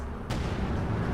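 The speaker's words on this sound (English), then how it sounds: "He's in range of the anti-tank gun now." A single heavy blast from an anti-tank gun in the strategy game Company of Heroes 2 hits sharply over a dense, rumbling battle ambience.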